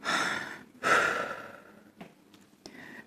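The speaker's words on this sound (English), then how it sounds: "First of all, what I need to do, I need to breathe" Two slow, deliberate breaths drawn and released close to the ear to stay calm, each a loud airy rush that fades, followed by a few faint softer breaths.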